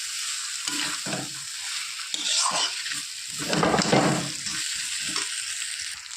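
Spice masala being sautéed in a pan for a cauliflower curry, bursts of sizzling that swell and fade with stirring strokes, with louder scraping and frying around the middle and quieter gaps between.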